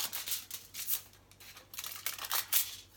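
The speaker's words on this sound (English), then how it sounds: "So I'm just going to go ahead and cut some." Scissors snipping copper wire, a few quick close cuts with soft crisp snaps and rustles, fairly faint, in a quiet room.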